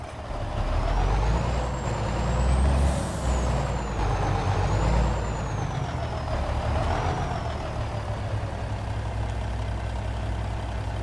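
A brand new truck idles loudly at close range with a steady low engine rumble, a rising and falling whine, and a hiss of air brakes as it maneuvers in reverse.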